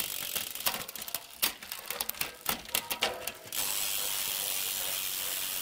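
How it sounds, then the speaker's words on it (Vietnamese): A Shimano 10-speed rear derailleur on a carbon bicycle shifts down the cassette, giving a rapid run of close, crisp ratcheting clicks from the freewheel that stops abruptly and leaves a steady hiss. "xuống líp."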